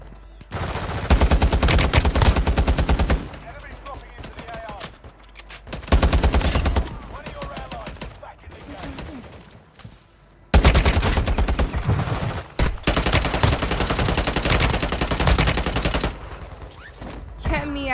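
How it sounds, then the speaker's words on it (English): Heavy automatic gunfire in Warzone Mobile, long rattling bursts of rapid shots in several waves, loud and close, with short quieter gaps between volleys. "Who's shooting me from my left?"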